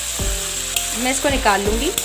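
Chicken pieces frying over high heat with ginger and garlic for a restaurant-style koyla karahi, a steady close sizzle with stirring clatter and a few scraping strokes, with a brief spoken word near the end.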